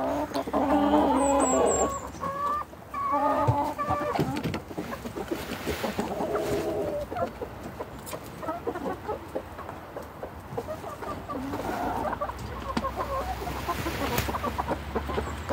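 Araucana hens cluck and call through feeding time, with a steady stream of overlapping clucks, squawks and short cries at close range, plus soft rustling and a faint low hum underneath.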